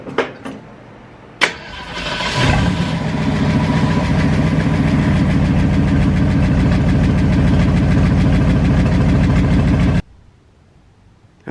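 A boosted Datsun engine starting and settling into a loud, steady, rumbling idle while a leaking wastegate lets air escape. The idle is close and continuous and cuts off abruptly near the end.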